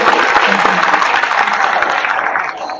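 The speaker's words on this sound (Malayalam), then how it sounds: "നല്ല കയ്യടിയാവും ഭഗവാന്റെ മുന്നില്." Loud, dense applause from a large audience at a fusion concert in Guruvayur, steady throughout and easing slightly near the end, with a voice briefly audible underneath.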